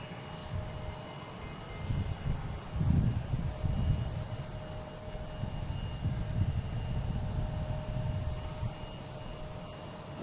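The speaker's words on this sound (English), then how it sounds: "Got a JetBlue in the alley here. This is going to be heading to Tampa, an A220." JetBlue Airbus A220 airliner at Boston Logan, its engine a faint low rumble swelling and easing at a distance, with a thin steady whine above.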